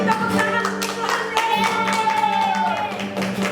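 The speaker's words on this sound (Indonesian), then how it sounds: "Tepuk tangan untuk Tuhan" Children in a Sunday school worship service clap their hands in rhythm, a series of quick claps mixed with singing voices and background music.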